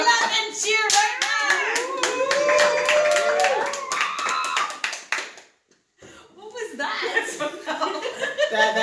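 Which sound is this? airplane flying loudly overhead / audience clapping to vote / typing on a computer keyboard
audience clapping to vote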